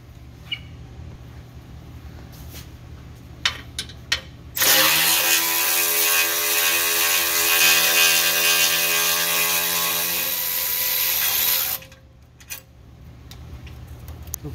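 A ratchet wrench turning out a 10 mm bolt under a Ford Transit T-250 van during transmission removal: a loud, close, continuous buzzing ratchet for about seven seconds, with scattered metallic clicks before and after.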